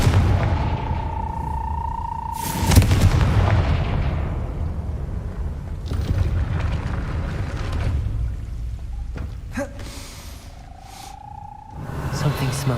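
The Confringo fire spell blasts in the Hogwarts Legacy video game, with heavy booming bursts over a steady rumbling game backdrop, one strong hit early and another near the end.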